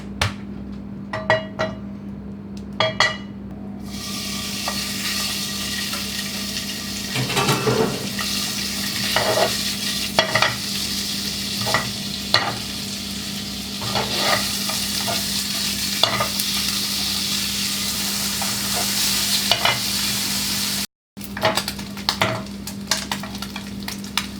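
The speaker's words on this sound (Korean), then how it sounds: "고기를 먼저 볶을게요" Meat sizzles and crackles as it is stir-fried in oil in a pan for fried rice at medium heat, with steady frying hiss broken by repeated spatula clanks and scrapes against the pan, close and fairly loud with no talking.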